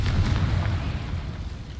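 A Confringo explosion spell cast in a Harry Potter video game, a short deep booming blast that fades over under two seconds.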